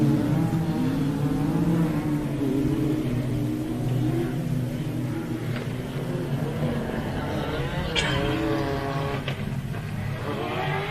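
A Pro 4 short course off-road race truck's engine revs loudly and continuously, building as it accelerates past at a race, with faint voices under the steady roar.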